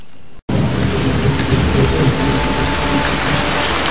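Heavy, steady rain roars and hisses with rumbling thunder underneath, presented as the acid rain that burns in a Doctor Who sound effect; loud and continuous after a brief dip near the start, with no voices.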